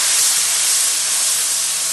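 Spice masala roasting in a pan gives off a loud, dense, unbroken hiss that holds steady for the whole moment, close and with no voices over it.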